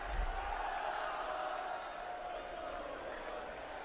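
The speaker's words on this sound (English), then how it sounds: "As the crowd breaks into there's only one Zach Scott" A stadium crowd chants for Zach Scott at his testimonial soccer match. The roar is dense and sustained for the whole stretch, with massed voices swelling slightly at the start before settling to a steady level.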